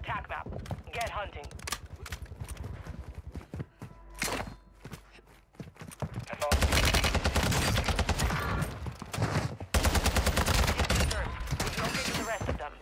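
Gunfire in the shooter Warzone 2, rapid bursts of automatic fire and sharp cracks, loud and close, with a dense sustained barrage in the second half and a voice talking over the early part.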